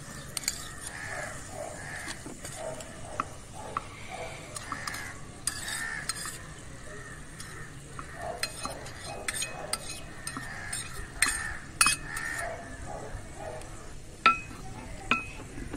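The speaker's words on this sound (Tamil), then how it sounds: "வெட்டி வச்ச வெஜிடபிள்ஸ் எல்லாம் இதில் போடலாம்" Chopped onion, tomato, mint and green chili fry in oil in a tiny pan outdoors during miniature cooking, with soft sizzling under repeated stirring scrapes and small metallic clinks.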